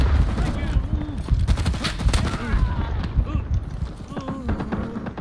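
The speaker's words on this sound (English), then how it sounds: "He's firing at us" Gunfire in the Rising Storm video game during a street battle for Saigon: rapid, dense bursts of shots crackle close by and keep going, with voices talking over the shooting.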